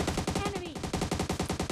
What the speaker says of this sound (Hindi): तो भाई इस पर मैंने गोलियां चलाई